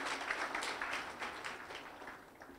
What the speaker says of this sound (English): So a special round of applause to these gentlemen and Mrs.